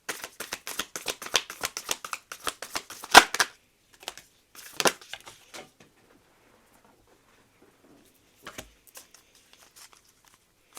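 Oracle cards riffled and shuffled in a quick run of dense papery flicks, then a few separate card snaps and slides as cards are drawn, followed by near silence with faint handling.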